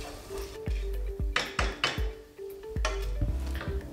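Risotto rice is stirred into melted butter in a pan, a spoon scraping and clinking against the pan in repeated strokes over a faint sizzle and a steady low hum. No one speaks.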